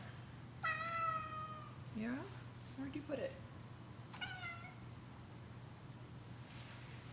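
A cat named Tuco meows several times close by, clear drawn-out calls between a person's quiet speech, over a low steady hum.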